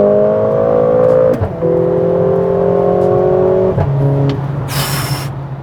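A 2021 Mercedes-AMG GLA 45 in Sport Plus mode pulls hard from inside the cabin, engine note climbing steadily through the gears with brief dips at each shift, loud and close, ending in a short burst of wind noise.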